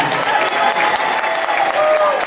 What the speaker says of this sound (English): I want you all to join me in a big round of applause for Pablo and Regina